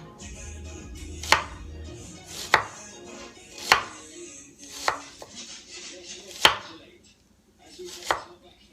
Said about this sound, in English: So rings, very thin rings from the 3 onions.